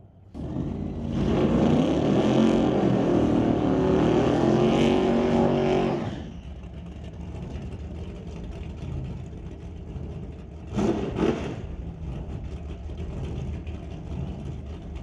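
A hot rod drag race car launches at The Old Car Centre Hot Rod Race, giving a loud, roaring acceleration for several seconds. It then drops to a quieter engine rumble, and a brief burst of revving follows later.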